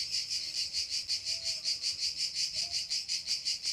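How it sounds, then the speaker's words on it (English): Cicadas buzz in summer in a steady pulsing drone, rhythmic shrill waves repeating about five times a second, faint and continuous with no talk. "It's the cicadas, sweetheart, and we have them, tons of them here."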